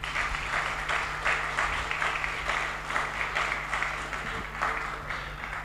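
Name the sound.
applause at a funeral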